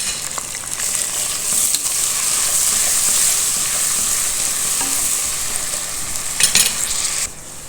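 Onions, cashews and ginger-garlic paste fry in a pan with a loud, steady sizzle and hiss, broken by a few scraping stirs, close up and without talk.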